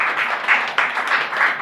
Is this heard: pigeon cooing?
no